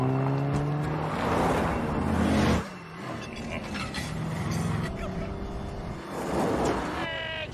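A car revs and roars off in a film chase scene, with loud engine surges, a sudden drop, then rising revving again, mixed with mechanical clinks and film score.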